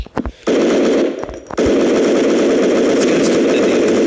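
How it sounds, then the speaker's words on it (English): Sustained automatic gunfire in a first-person shooter video game, a few short bursts followed by a long continuous rapid stream of shots, loud and close. "Someone is shooting you from behind."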